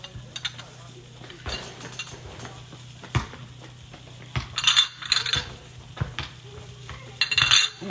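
Chopped garlic is scraped out of a small container with a utensil in a home kitchen, giving close, irregular scrapes and light clinks. Louder clusters come near the middle and the end, over a faint background hum.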